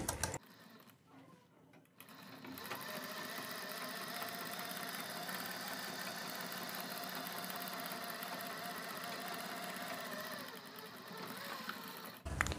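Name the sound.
sewing machine stitching pintucks on fabric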